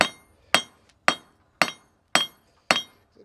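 A hammer beating on an old American steel end wrench to break its end off, seven sharp metallic strikes at an even, unhurried pace, loud and close, each ringing briefly before decaying.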